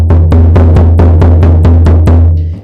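A frame drum is struck in a steady, fast rhythm of about nine evenly spaced booming beats, loud and close, each with a deep resonant low tone, played alone with no voices.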